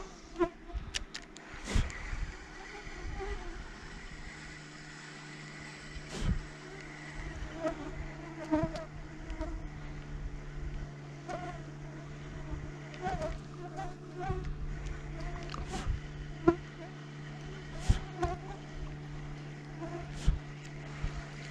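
Mosquitoes and flies whine and buzz around an angler out fishing on the water, a thin continuous insect drone with sharp clicks and knocks scattered through it, fairly quiet and steady throughout.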